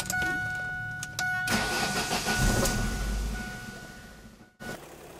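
A Ford Focus with a low-power fault cranks and fires, a short whirring starter burst followed by the engine catching and settling into a rumbling idle, with a brief cutout near the end.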